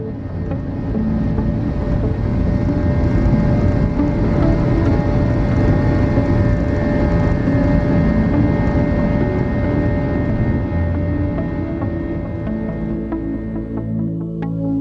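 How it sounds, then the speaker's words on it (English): A Philippine Airlines Airbus A321 takes off from Cebu airport bound for Manila, heard from inside the cabin as a loud, steady engine roar with broadband rumble and a constant hum that holds through the climb. "we're taking off for Manila"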